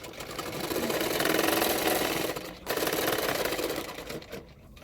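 A sewing machine stitches slowly along the folded-back fabric edge of a long frock, a close, even mechanical chatter with a brief pause midway before resuming.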